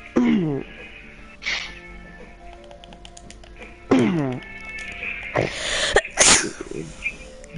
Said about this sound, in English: Bless thy person with the sneezes.